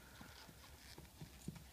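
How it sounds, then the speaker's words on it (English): Soft, faint hoofbeats of a champagne Missouri Fox Trotter mare cantering, a quick rhythmic series of muffled footfalls heard from a distance with no talking. "Real nice canter, which a lot of gated horses don't have."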